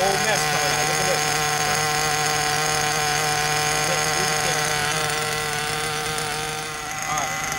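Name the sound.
Werks B5 RC nitro engine revving with throttle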